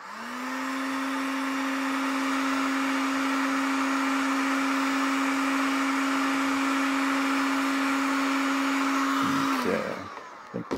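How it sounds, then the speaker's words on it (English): A heat gun blows continuously at close range with a loud, steady whine and airy rush, used for shaping curves on handmade model roads, then switches off abruptly near the end. "What I do for the curves and stuff is I use a heat gun."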